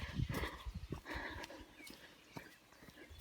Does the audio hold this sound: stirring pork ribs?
no